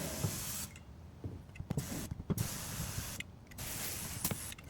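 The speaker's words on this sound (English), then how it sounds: "I am gonna spray it with the brake cleaner" Brake cleaner hisses in several short, sharp bursts separated by brief silences as it is sprayed into the fuel tank of a 1986 Corvette C4 during a fuel pump replacement.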